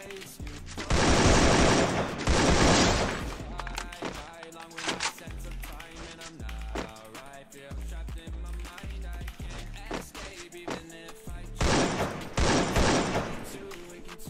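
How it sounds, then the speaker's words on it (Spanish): Bursts of rapid automatic gunfire crackle loudly, two long volleys at the start and again near the end, with scattered shots and game sounds between. "Que disparo para que salgan de ahí e intenten salir a dispararme."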